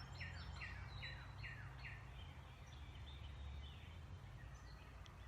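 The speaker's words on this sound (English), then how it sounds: "There's birds everywhere behind me." Birds chirp outdoors on a spring day, a quick run of repeated bright chirps at first and then scattered calls over a faint steady background hum, quiet and somewhat distant.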